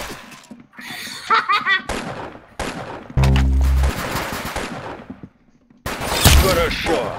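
Bursts of gunfire from the Roblox game Arsenal, rapid shots mixed with other game sounds and a loud buzzing tone, with players talking and laughing over and between the shots.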